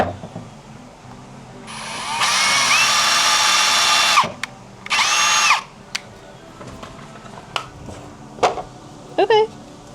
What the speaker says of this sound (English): what I'm gonna do is literally just very, very slowly drill right through these holes